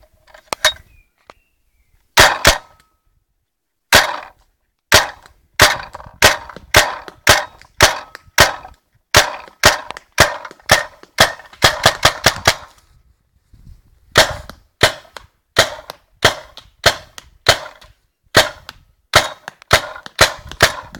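Rapid sharp popping shots from a Tippmann X7 paintball marker, fired in quick bursts with short pauses between, close and loud with no talking.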